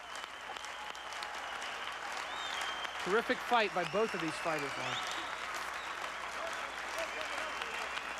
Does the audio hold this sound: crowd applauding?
yes